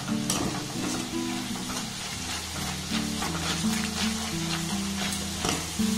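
Drops of besan batter fry in hot oil with a steady, dense sizzle throughout, while a low hum runs underneath and a few faint stirring scrapes come through.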